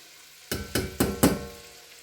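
Celery, carrots and onion tip into a pot to sweat, landing in four quick, close sizzling bursts about a quarter second apart, each flaring and then settling into a low hiss.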